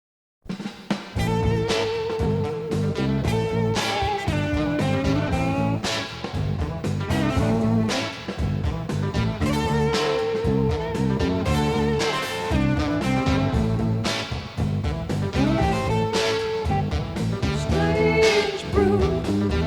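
A rock song plays loud and full, with a dense band mix of guitar, bass and drums running continuously.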